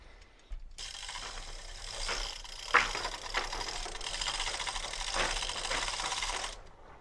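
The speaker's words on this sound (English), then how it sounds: "I'm going to go ahead and crank that up a little more" A loft wall lift being cranked up gives a continuous mechanical ratcheting clatter close by, with sharper clicks and knocks partway through, which starts suddenly and stops near the end.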